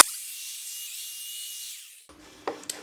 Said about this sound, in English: by tilting the POWERFILE just slightly, it's just starting to encourage that little radius to start